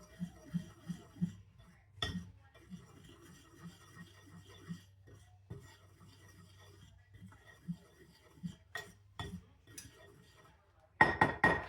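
Chocolate chip cake batter being stirred in a bowl, with a steady rhythm of soft scraping strokes and light clinks against the side, plus a few sharper knocks and a clatter near the end.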